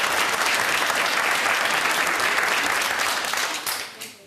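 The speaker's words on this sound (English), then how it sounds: "I think that's the first round of applause on Judge Rinder ever." A TV courtroom studio audience breaks into sustained applause, dense and steady clapping that tapers off in the last second.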